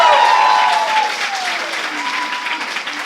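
Audience applause in a hall at a live-streamed youth work event in Kranjska Gora, Slovenia: dense, steady clapping from a room full of people that fades gradually over three seconds, with a voice speaking faintly over it.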